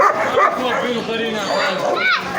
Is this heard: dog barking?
yes